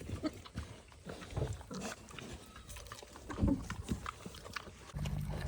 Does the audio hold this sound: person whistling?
no